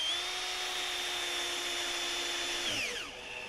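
A power drill drives screws into an unpredrilled wooden beehive box until the heads sit flush. One steady, close, loud motor whine holds for nearly three seconds, then winds down as the screw seats.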